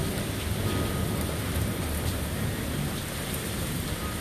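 Heavy thunderstorm rain in Austin pours steadily, a dense, loud, continuous hiss of drops on surfaces with no voices.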